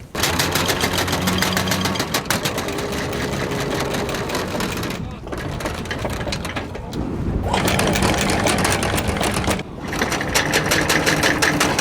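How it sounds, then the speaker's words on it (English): A boat engine starts and runs on a hot day near a remote island, a steady loud mechanical rattle and drone that carries through almost the whole stretch, with short dips and people talking over it. "Oh, Marvin is turning on the engine."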